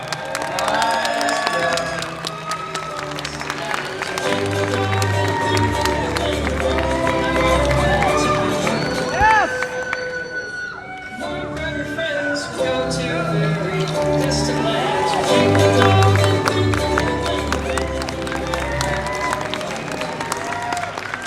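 A crowd applauds and cheers at a cosplay contest at Visioncon 2023, a sustained loud wash of clapping and shouting with music or voices woven through, dipping briefly midway before swelling again.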